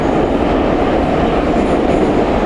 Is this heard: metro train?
yes